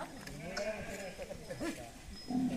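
Sheep and goats bleat at the Akadi festival of the Adivasi Kolam tribe, several wavering calls close by, with people talking in the background.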